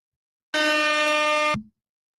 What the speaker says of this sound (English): Hit that air horn twice.